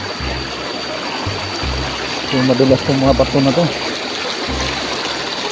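Steady rushing water from a flowing mountain river being crossed on foot fills the background while a person speaks briefly over it.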